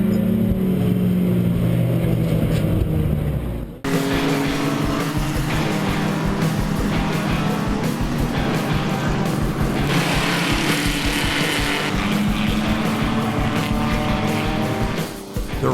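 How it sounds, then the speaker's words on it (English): Bandolero race cars roar past on a track in a steady, loud wash of engine noise with shifting pitch as the small cars jostle close together, a brief drop near the start, no talking. "Jeff's on the track racing"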